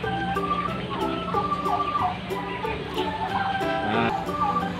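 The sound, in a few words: native chickens clucking on a farm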